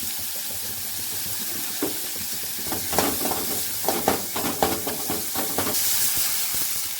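Dried red chilies and crushed garlic sizzle in hot oil for rasam, a close, hissing fry punctuated by several clinks and stirs of a spoon in the pan.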